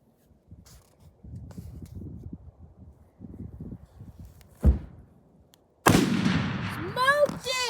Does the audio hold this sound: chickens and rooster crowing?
no